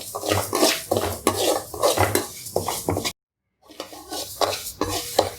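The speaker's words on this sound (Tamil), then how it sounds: "இதில் இந்த பாசி பருப்பை வறுத்துக்குவோம். கொஞ்சம் பொன்னிறமாக வறுத்துக்கணும்." Moong dal being dry-roasted in a pan, stirred in quick repeated scraping bursts of grains and spatula against metal, loud and close, with a brief silent gap partway through.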